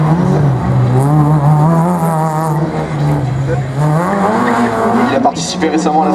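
Citroën Saxo race car at a slalom, its engine droning loud and steady with rising and falling revs and a brief tyre squeal near the end, over a commentator speaking throughout.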